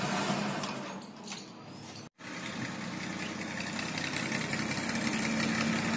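A motorcycle engine idling close by, a steady even hum that runs throughout, broken only by a brief dropout partway through.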